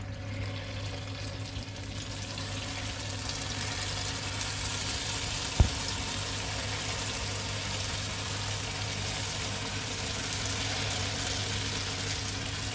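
Urad dal jalebi frying in hot oil, a steady even sizzle and bubble that carries on without a break, with one sharp click partway through.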